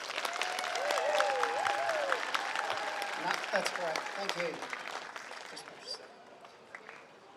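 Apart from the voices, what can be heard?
audience applause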